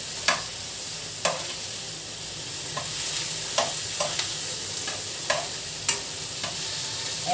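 Chicken wings fry in a pan with a steady crackling sizzle under repeated sharp clinks and scrapes of stirring, close and moderately loud, with no talking.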